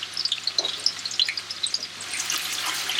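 Finely sliced large onion frying in oil in a pot for chicken pulao crackles with dense, bright popping that settles into a steady close sizzle; no talking.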